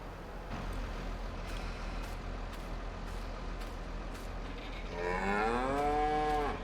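Cattle mooing in a pasture in the farming game Farming Simulator 22: a long, drawn-out low moo swelling loudly near the end over a steady ambient background, with faint clicks earlier.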